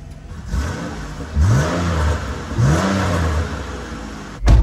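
A 3.9-litre V6 car engine is revved twice from idle, each blip rising sharply and then falling back to a steady idle, close and loud.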